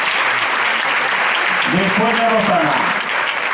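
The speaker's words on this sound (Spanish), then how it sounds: "aquí tenemos que aplaudir como si fuesen la alineación de la selección española" An audience claps for rondalla musicians at a Pilares 2024 performance in Puerto de Sagunto, Valencia, loud continuous applause filling the room while someone speaks briefly over it.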